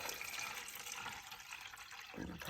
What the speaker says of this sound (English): I'm gonna put my water in.